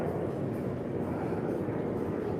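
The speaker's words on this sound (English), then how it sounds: "there is a jet taking off." A jet taking off from the Mykonos airport across the island, heard from a cruise ship at evening sailaway as a steady, distant low roar with no talk over it.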